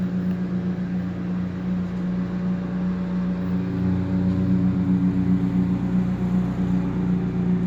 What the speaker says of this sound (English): mulching up leaves